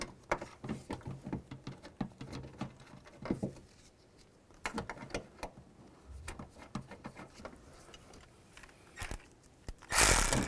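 Bolts on a rear window regulator of a 2005-15 Nissan Xterra being tightened with a ratchet, giving quick clicking bursts and metallic rattles at close range, with brief pauses between runs.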